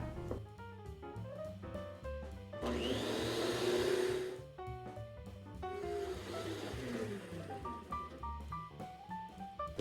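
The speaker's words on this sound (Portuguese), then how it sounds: "Agora eu vou colocar 100 ml de suco de limão e vou bater mais 1 minuto" Lemon juice is beaten into a pale cake batter cream with an electric mixer, which whirs loudly for a couple of seconds, pauses, then runs again more softly, under background music.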